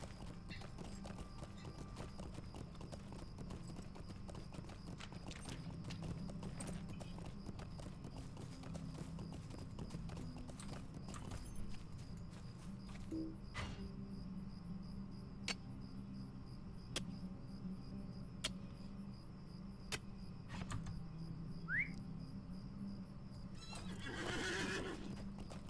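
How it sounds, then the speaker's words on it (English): Steady clip-clop of horse hooves walking at an even pace in the video game Lord of the Rings Online, with occasional sharper knocks and a soft chirping background, a brief whinny near the end. "My horse does not like water, so we'll go around here."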